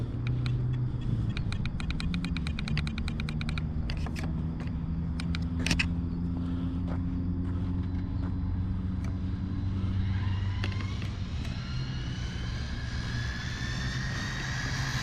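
An Arrma Limitless RC car on a full-throttle speed run, its electric motor rising to a high whine as it approaches and then fading and shifting pitch as it passes and pulls away, heard outdoors without speech.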